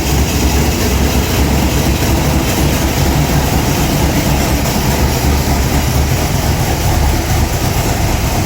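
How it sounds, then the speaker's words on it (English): Olds 350 big block with J heads idling, a Ford alternator with a failing bearing adding a constant rough grinding whir over the dense engine rumble, loud and unbroken. "What you're hearing is the alternator has a bad bearing."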